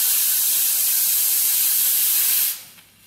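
The steam wand on a Sanremo Verona RS espresso machine blows a loud, steady, close hiss for about two and a half seconds, then cuts off abruptly as the steam is turned off, leaving faint residual noise.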